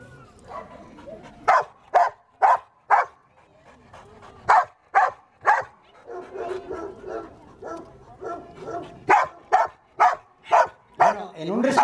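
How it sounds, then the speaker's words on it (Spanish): A dog barks in sharp single barks and short bursts at a dog show, loud and close, with quieter talk in the gaps between barks. "El ladrido no sería este"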